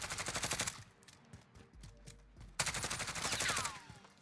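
Rapid automatic gunfire in the video game Modern Warfare comes in two loud bursts with a quiet gap between them, the second burst ending in a ringing metallic trail.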